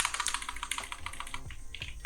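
Rapid, uneven keystrokes on a computer keyboard while an ad description is typed, a close clicking patter with brief pauses, no voices.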